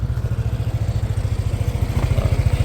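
Yamaha Nmax 125 scooter engine running close up, a steady loud rhythmic idle pulse with a slight rise in level toward the end, no talking.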